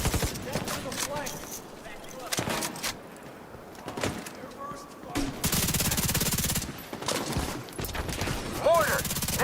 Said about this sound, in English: Mortar, now! Dang, these mortars are crazy, bro.